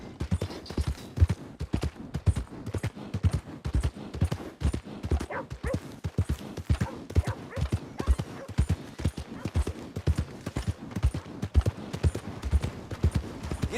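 Horse hooves galloping in Red Dead Redemption 2, a fast, regular clip-clop of hoofbeats running continuously and close, with a brief whinny-like snort partway through and no talking.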